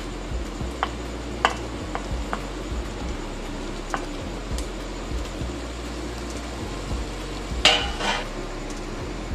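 Bell peppers, capsicum, onion, garlic and carrot stir-fried in a pan for mixed fried rice, with occasional spatula clinks and scrapes against the pan over a steady low background hiss.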